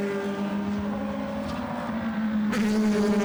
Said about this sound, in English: So as the cars scream past